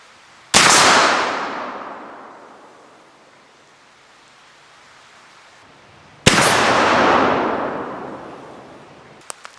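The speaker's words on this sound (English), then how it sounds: "let's see if we can't persuade him to back off with a 54 caliber pill from the Lyman Great Plains Rifle" A .54 caliber Lyman Great Plains muzzleloading rifle fires outdoors, one sharp, loud blast with a long rolling echo that fades over several seconds, then a second identical shot and decay, with no talking.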